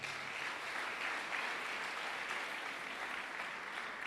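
A church congregation applauds the choir, a dense, even clapping from many hands heard at a moderate distance, steady for the whole stretch without voices.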